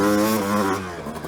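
Suzuki motorcycle engine with a Lectron carburetor at wide open throttle, a close, loud harmonic whine that holds steady and then eases off slightly toward the end.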